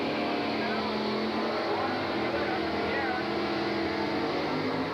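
A 1969 Pontiac Firebird with a big block Pontiac engine races a drag strip at the 1983 Englishtown Springnationals, its engine a steady, loud, sustained roar heard from a distance.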